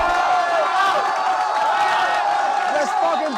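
Crowd at a Nepal vs India rap battle cheering and roaring in a dense, continuous wash of voices, steady and loud throughout with no clear break.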